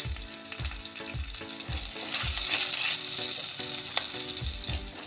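Tempering of black cumin, slit green chillies and asafoetida hitting hot oil for hing pabda fish: a bright, continuous sizzle and crackle with regular low knocking underneath.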